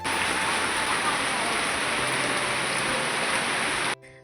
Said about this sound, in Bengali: পুজো শেষ হতে চালু হয়ে গেল বৃষ্টি